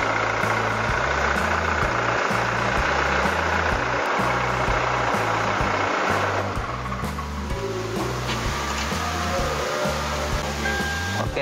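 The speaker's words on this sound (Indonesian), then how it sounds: "Ruang mesin menggunakan mesin tipe 2GD" Toyota Fortuner VRZ TRD with a 2GD 2400cc turbo diesel engine running in the engine bay, a steady loud low rumble with rhythmic pulsing throughout, no voices.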